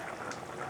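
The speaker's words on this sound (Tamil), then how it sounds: "குருமா கொதிச்சிட்ருக்கு." Potato kurma with coconut paste and water bubbles in a pot, a faint, steady simmering with soft popping close by.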